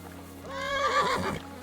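Horse neighing in the Kingdom Come: Deliverance II video game, one loud rising and falling whinny heard close, with no talking over it.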